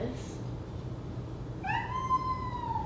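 A house cat lets out one clear, drawn-out meow partway through, heard close over a low steady background hum.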